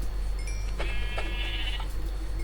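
A single sheep in Minecraft bleats once, a wavering nasal call over a steady low background hum.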